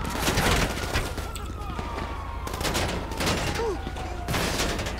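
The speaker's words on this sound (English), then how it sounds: "Shotgun." Gunfire in GTA 5 during an LSPDFR police mission, several heavy shotgun-like blasts in quick bursts over a dense, loud backdrop, with radio chatter and a voice over the top.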